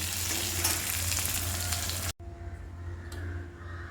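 Poruma curry frying and being stirred in a hot pan, a loud close sizzle that cuts off abruptly midway, then resumes more softly with faint scraping.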